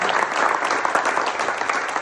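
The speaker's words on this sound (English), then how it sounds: "let's give John a big round of applause." Audience applause at an industry anniversary event, a dense, steady wash of clapping from a crowd, close and loud throughout.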